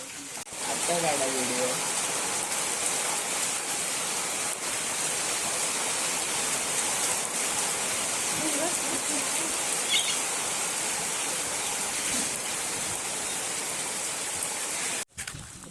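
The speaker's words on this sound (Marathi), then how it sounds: "गाईज पाऊस पडतोय आता बघा. अवकाळी पाऊस कधी पण पडतो." Steady unseasonal rain pours down in a continuous hiss in a village, with a few bird chirps near the start and occasional voices underneath.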